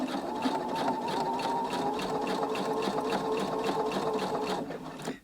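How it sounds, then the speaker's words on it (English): A Husqvarna Brilliant 75Q sewing machine stitching fabric, running at a steady fast whir with a rapid needle pulse for about five seconds before slowing to a stop, close and continuous, with no voices. "on this machine I'm using the Brilliant 75Q by Husqvarna. It's not an issue for me, it will just feed through beautifully"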